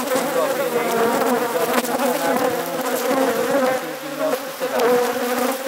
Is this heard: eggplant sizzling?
no